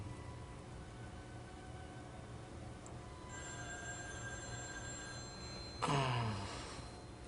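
Telephone ringing indoors in a soap-opera scene, a faint trilling bell buried in steady background hiss, with a louder sweeping tone burst toward the end.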